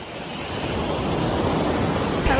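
Sea waves wash onto a quiet beach at Banyuwangi, a steady broad surf roar that builds slightly and holds, with no voices over it.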